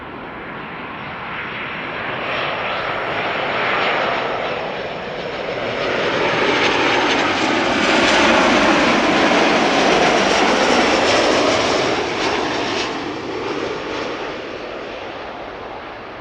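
A Qatar Airways jet airliner rolls along the runway at Amsterdam Schiphol, its engines a loud broadband roar that swells, peaks midway and slowly fades over about sixteen seconds, heard alone with no talk.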